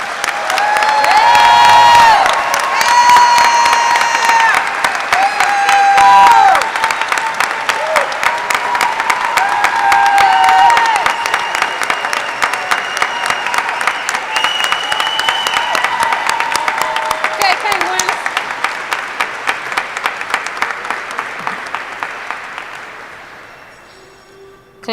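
A large audience applauds loudly and steadily at a warrant officer candidate graduation, with scattered cheers and whoops, the clapping thinning out and fading toward the end.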